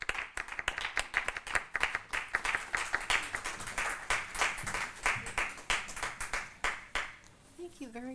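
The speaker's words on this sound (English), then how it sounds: "Let's give her a round of applause." An audience at a city forum claps for a speaker, a burst of dense, close applause that thins out over several seconds before a voice begins speaking.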